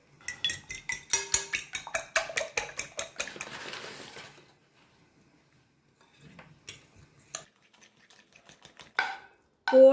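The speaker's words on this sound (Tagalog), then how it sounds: "In a bowl, beat 3 eggs and add 2 tablespoons of flour." Three eggs being beaten with two tablespoons of flour in a bowl, a rapid run of rhythmic whisk clicks against the bowl for about four seconds, then a pause and a few scattered scrapes and taps.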